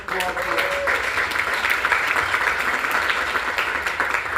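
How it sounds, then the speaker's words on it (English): Sustained applause from a lunch meeting crowd honoring a Rotary club's Rotarian of the Year, dense steady clapping throughout with a brief murmur of voices at the start. "round of applause for that"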